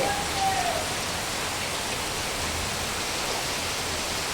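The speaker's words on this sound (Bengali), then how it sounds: "এখন মুষলধারে বৃষ্টি হচ্ছে" A heavy monsoon downpour, a dense, steady hiss of rain pounding surfaces close by, continuous and loud with no voices.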